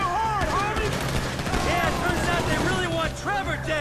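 Rapid gunfire bursts and headshot impacts from the video game Grand Theft Auto V rattle through a busy in-game firefight, with whistling ricochet-like tones, and an excited player talks over the shooting.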